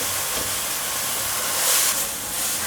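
Enoki and shiitake mushrooms with tofu puffs stir-fried in a hot pan, a steady loud sizzling hiss with a brief swell of spitting near the middle, no talking.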